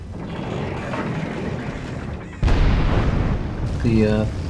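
Siege artillery in a Medieval II Total War battle at a river crossing, catapults and cannon booming amid dense battle din, with a heavy impact jump midway and a voice-like tone near the end.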